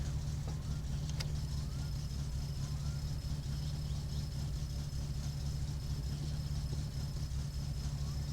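Car engine in My Summer Car running steadily on a dyno without nitrous, a constant low drone with no stalling or sputter, close and even throughout, with no talk over it.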